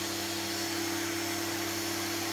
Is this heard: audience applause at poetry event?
no